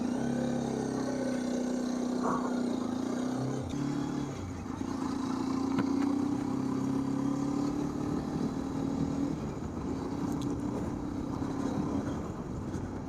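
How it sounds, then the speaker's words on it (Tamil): Hero Xpulse 210 adventure motorcycle engine and exhaust on a ride, a steady droning hum holding near-constant revs for about thirteen seconds with small dips and no voices. "இது எக்ஸாஸ்ட் நோட்டை பற்றி நீங்கள் நினைக்கிறீங்க?"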